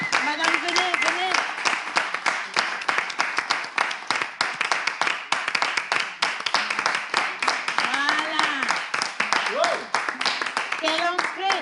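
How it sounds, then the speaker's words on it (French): Studio audience clapping to welcome a performer onto a French variety show set, steady dense applause running throughout while a presenter's voice talks loudly over it. "Est-ce qu'on peut applaudir pour l'accueillir,"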